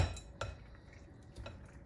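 A bowl of deviled egg macaroni salad with chives being mixed: soft clinks of utensil against the bowl, a couple of sharper taps among low, quiet scraping, close and faint.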